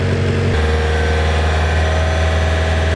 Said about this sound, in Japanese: はい、でエンジンかけます。